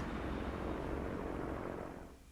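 Steady droning airplane engine from a flight combat video game, a loud continuous roar close up that eases slightly toward the end.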